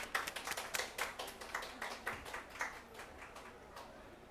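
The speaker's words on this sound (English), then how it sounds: "let's give a big round of applause" An audience at a climate mitigation panel event claps for the speakers, a short, fairly quiet round of applause with distinct individual claps tapering off.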